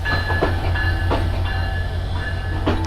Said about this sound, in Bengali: ট্রেন আসছে নাকি? ওই যে